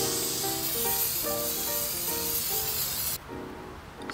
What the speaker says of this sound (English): Position the can 8 to 12 inches away from the surface and spray.